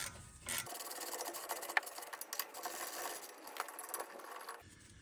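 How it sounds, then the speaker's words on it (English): A 7mm Allen key turns the slider pins on a Seat Arona brake caliper, giving about four seconds of continuous gritty rasping and grinding up close, with no talking. "So this is a 7mm Allen key. So we just undo those,"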